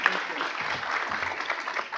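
Applause at a university diversity award ceremony, a brief, moderately loud spell of steady clapping from a seated audience with faint crowd murmur.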